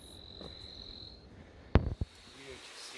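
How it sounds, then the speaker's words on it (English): A few short, sharp calls from an Eiffinger's tree frog burst out close by at night on a Taipei forest trail, a quick clustered series, over a quiet backdrop of steady insect buzzing. "Here's an Eiffinger's tree frog,"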